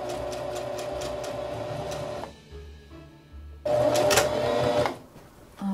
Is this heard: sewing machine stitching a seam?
yes